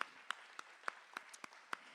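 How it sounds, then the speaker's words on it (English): At a synagogue volunteer appreciation Shabbat service, a few sparse, faint claps sound at a slow, regular pace, quiet and somewhat distant. "Let's give Andrea a big round of applause"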